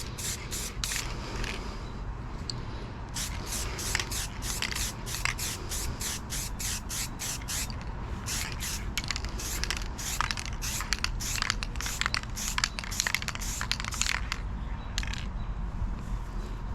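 An aerosol can sprays paint onto the spinner of an E-Flite Carbon Z Cessna 150T model plane in rapid repeated short bursts, close and hissing over a faint background hum.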